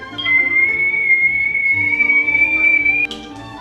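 A kettle whistling on a stove: a steady high-pitched whistle holds one shrill note for about three seconds, then cuts off abruptly, with low background hum underneath.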